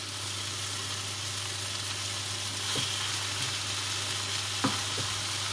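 Minced meat sizzling steadily in a pan while being cooked as filling for Turkish börek, a continuous soft frying hiss with a couple of faint clinks of a utensil near the end.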